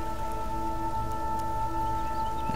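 Rain falls steadily in The Forest video game, an even wash of noise under a constant tonal hum that runs throughout.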